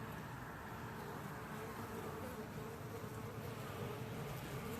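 Honey bees flying in to their hive, some carrying pollen, make a dense, steady buzzing drone, close and continuous, with no talk over it.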